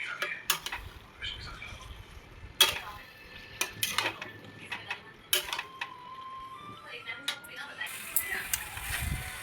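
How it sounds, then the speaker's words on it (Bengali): Chicken pieces go into a pan and get stirred, heard as sharp metallic clanks and scrapes of a utensil against the pan at irregular intervals, fairly close, with quieter gaps between and a faint hiss building toward the end. "এবার আমি মাংসগুলো দিয়ে দিচ্ছি"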